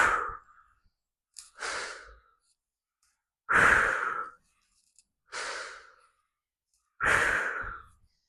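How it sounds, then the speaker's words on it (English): Slow, deep breathing during a mindfulness exercise, with five long, close inhales and exhales separated by silent pauses, heard alone without talk. "Inhale, exhale, inhale, exhale."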